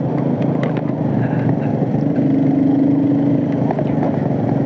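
A Honda CGL125 motorcycle engine, modified to 200cc, drones steadily at cruising speed of about 50 in fifth gear, a constant close hum with rushing wind and no voices.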